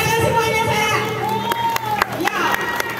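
A school audience applauds and cheers after a class 3 student's karate kata at a talent show, crowd noise with scattered sharp claps and children's shouts mixed in.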